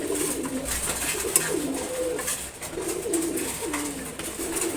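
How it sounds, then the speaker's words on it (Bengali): Khaki and chila pigeons in a loft coo continuously nearby, their low throaty calls rising and falling in several overlapping bursts, with no speech. "তারপর এখানে আছে হচ্ছে খাকি কবুতর, আর একটা আছে চিলা কবুতর।"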